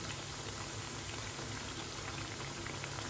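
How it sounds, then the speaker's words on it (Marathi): Colocasia leaf rolls (aluvadi) fry in hot oil, giving a steady soft sizzle and bubbling hiss, continuous and fairly quiet, with no voices. "आता एक एक आपण अशी उलटी करून घेऊया म्हणजे दोन्ही बाजूनी व्यवस्थित तळली जाईल"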